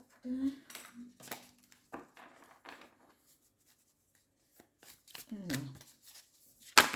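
Oracle cards being shuffled and laid out on a table, a few soft riffling and slapping bursts separated by quiet gaps, with a voice talking intermittently throughout.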